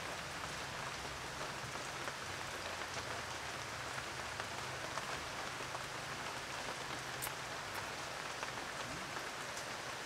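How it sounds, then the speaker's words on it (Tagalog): Heavy rain pouring steadily, a dense even hiss of drops on surfaces with no gaps, moderately loud and continuous throughout. "Maingay yung ulan eh."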